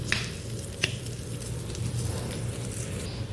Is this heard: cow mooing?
no